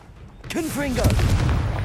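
A Confringo fire spell explodes in Hogwarts Legacy, a loud rolling blast that swells and holds under a voiced call.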